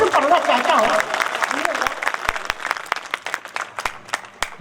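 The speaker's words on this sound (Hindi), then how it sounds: "एक बार पूरा सदन जोरदार ताली बजा दे" Audience at a Hindi poetry recital gathering applauds, a dense burst of clapping that thins into scattered individual claps, with a voice talking over the start.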